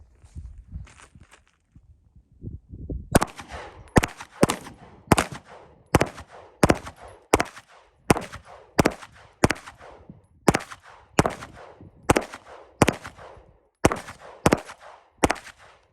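A 2022 FN High Power pistol fired at an outdoor range, a string of loud, sharp shots at a steady, brisk pace with brief echoing tails, preceded by quiet handling sounds.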